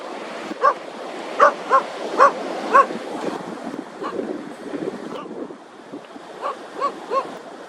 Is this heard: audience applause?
no